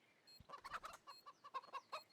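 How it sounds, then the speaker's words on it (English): Chickens cluck in a rapid, rhythmic run of short calls on the Inferno map of Counter-Strike during a professional match, faint and close, with no voices over them. "Bloody chickens."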